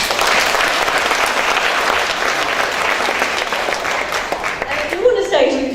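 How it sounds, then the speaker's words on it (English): A cruise-ship audience applauds a boat crew: dense, steady clapping fills the room for about four and a half seconds, then thins out and fades as a voice begins. "And give them a clap."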